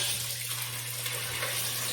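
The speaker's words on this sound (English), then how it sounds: "There's water flowing." Water rushes steadily and loudly from a pipe in a continuous hiss, with a low hum running underneath throughout.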